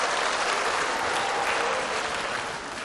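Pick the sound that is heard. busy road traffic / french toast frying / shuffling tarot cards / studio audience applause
studio audience applause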